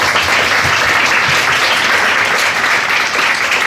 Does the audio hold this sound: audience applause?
yes